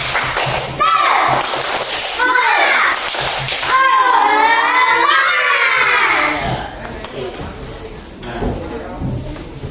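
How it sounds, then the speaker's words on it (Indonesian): Children in a classroom perform the 'tepuk semangat' clap cheer: a burst of patterned claps and thumps under loud, excited children's chanting and shouting that fades toward the end. "Tepuk semangat."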